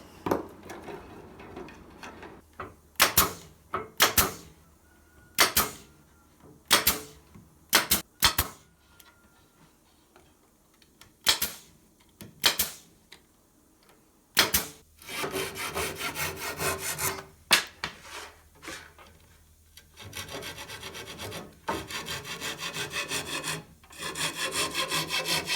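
Roofing sheet metal shears snip through wire in a series of sharp, close metallic cuts spaced a second or two apart, then give way to denser, continuous scraping and clipping.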